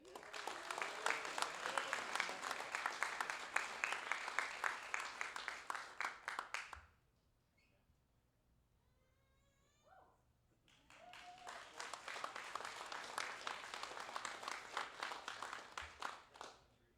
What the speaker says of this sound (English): join me in a round of applause for the graduates